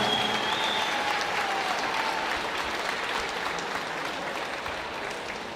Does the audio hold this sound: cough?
no